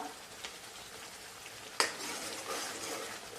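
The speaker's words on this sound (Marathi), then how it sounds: "आपला मसालाही छान प्रकारे असा परतला जात आहे हे पहा" Masala for a brinjal curry frying in a pan, with a soft steady sizzle, light scrapes of a spoon and one sharp clank of metal against the pan.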